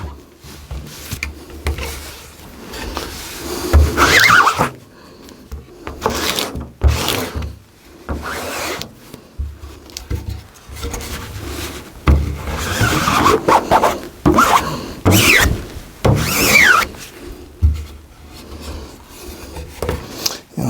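Squeegee scraping emulsion coat across a silkscreen frame at home, the frame sometimes braced against a leg; repeated rasping strokes in bursts with short pauses, close and fairly loud.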